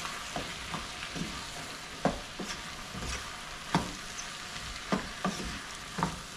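Nopales sizzle steadily in a frying pan while a spoon stirs them, with intermittent sharp scrapes and clacks against the pan over the constant frying hiss, close and fairly loud.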